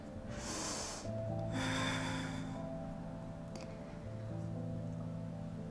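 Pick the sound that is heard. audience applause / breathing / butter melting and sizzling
breathing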